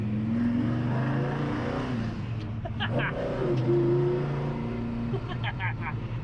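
A 1970 Dodge Dart Swinger with a 340 V8 revs and accelerates with a low, throaty rumble at moderate distance, while voices chat briefly over the engine.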